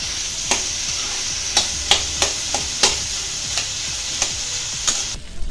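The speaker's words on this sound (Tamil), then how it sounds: "வெங்காயம் பச்சை மாறுற வரைக்கும் கிண்டிகிட்டே இருக்கணும்." Onions and tomatoes sautéing in a pan for Tamil-style kara chutney give a steady close sizzle, with a spoon scraping and stirring in repeated sharp strokes about every half second to second.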